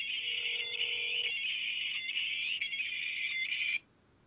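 Mobile phone ringing with an incoming call in the Tick, Robot game, a bright electronic ringtone repeating steadily for almost four seconds before cutting off abruptly, loud and close, with no voices over it.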